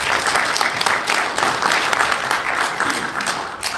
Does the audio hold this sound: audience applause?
yes